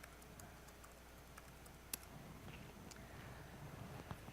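Faint, sparse keyboard clicks from typing on a computer over a steady low hum, scattered taps with one sharper click standing out.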